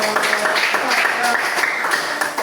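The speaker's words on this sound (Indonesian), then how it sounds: "Oke, tepuk tangan dulu untuk ya." A classroom group in a teaching session claps for presenters who have just finished. The clapping is loud and ragged, with overlapping claps and voices talking over it throughout.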